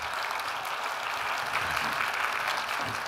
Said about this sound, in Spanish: Doctor Alfonso Alfaro Barreto, le damos nuevamente la bienvenida al ITESO con un fuerte aplauso.